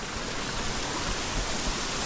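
Large waterfalls in a dense Srisailam forest at Parupu Bandalu, a steady broadband rush of falling water that holds constant and close throughout with no voices.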